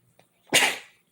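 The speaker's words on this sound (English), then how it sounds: "Had to sneeze." A single sharp sneeze bursts out close by after a brief quiet breath, then fades away.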